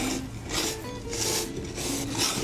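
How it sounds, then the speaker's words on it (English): Flour and salt whisked briskly in a small bowl, a steady run of dry scraping and rasping strokes repeating roughly every half second, close and fairly loud with no talk. "So I'm just gonna give this a quick little whisk."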